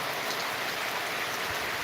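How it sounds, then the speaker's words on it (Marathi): Soft, steady rain patters continuously at a moderate distance, with no voices. "पाऊस भरपूर पडेल अजून"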